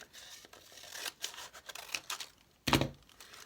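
Scissors trim paper in a series of quiet snips and crinkles, irregular and close, ending with a louder rustling cut or tear.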